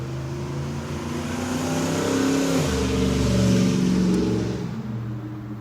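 A loud car engine rumbles and revs as it passes by, swelling to a peak midway and then fading a little, deep and throaty, with no talking over it.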